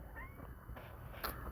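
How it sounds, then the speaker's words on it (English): A cat meows while catching a snake, a brief high call standing out near the end over a quiet, steady background with no talk. "this cat trying to eat a snake."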